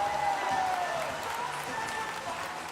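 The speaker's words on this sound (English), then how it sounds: "Give him a big round of applause." A studio audience claps steadily through a live comedy show, a dense, even wash of applause with a faint tonal hum running beneath it.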